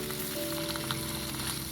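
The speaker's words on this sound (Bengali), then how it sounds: "মাছগুলো এবারে ভেজে নেব।" Hilsa fish fry in hot mustard oil in a kadai, giving a soft, steady sizzle and crackle with faint popping, low in level and uninterrupted.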